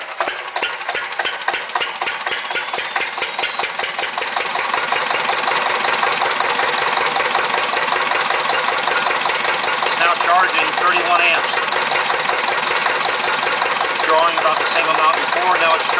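A Listeroid diesel engine with an electric starter and DC generator chugs steadily with a fast, even knocking rhythm, close and loud, building slightly after the first few seconds and holding steady.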